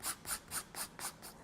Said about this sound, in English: so I want just right here to file a little bit